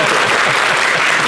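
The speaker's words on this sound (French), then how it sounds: "Applaudissez." A French TV studio audience on La Télé d'Ici bursts into dense, loud, continuous clapping for a brief moment, a close wash of many hands with no pauses.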